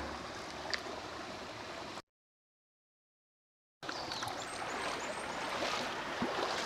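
Cold river water flowing over rocks and sand at the Saluysoy river in Bancod, Indang, Cavite, a steady close babbling stream broken by a short silent gap midway.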